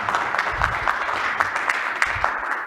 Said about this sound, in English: Big round of applause for Mark and Craig for being here for the Digital Battle Live.